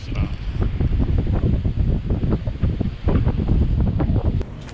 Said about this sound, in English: It's kind of windy and cold up here